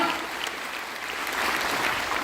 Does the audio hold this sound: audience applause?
yes